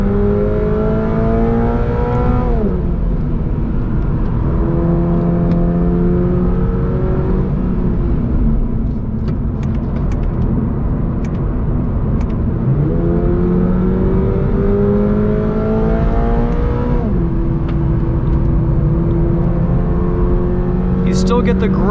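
A 2022 Toyota GR86 Premium with an automatic transmission accelerates hard from a standstill, heard loud from inside the cabin. The engine note climbs repeatedly and drops at each upshift, several gear changes in a row.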